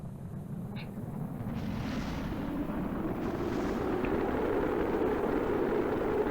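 A capsule with a heat shield plunges back through the atmosphere in Kerbal Space Program, producing a steady, rumbling roar that swells slightly and holds loud and continuous, with faint higher tones above it and no talking.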